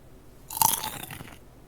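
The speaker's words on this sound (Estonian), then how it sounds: "ma ragistan puukoort" Crunching bite sounds as tree bark is chewed in Minecraft, a close burst of rapid crackly chewing lasting under a second over a quiet background.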